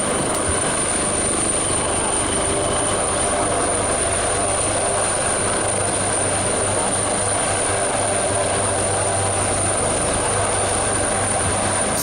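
An HH-139 helicopter hovers during rehearsals at the Jesolo European Air Show 2017, producing a loud, unbroken rotor roar and a high, steady turbine whine throughout, with faint voices underneath.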